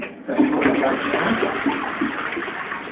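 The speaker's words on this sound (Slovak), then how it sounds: "Spláchne, ukáž, ako to splachuje." A toilet flushes nearby with a loud, steady rush of swirling water that lasts a few seconds, indoors in a small bathroom.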